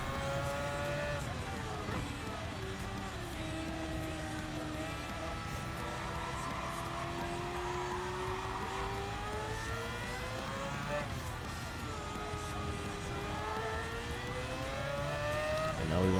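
A Group 1 race car engine droning steadily at Spa in Gran Turismo 7, its pitch rising and falling through gear changes and corners over a continuous hum, with someone talking over it.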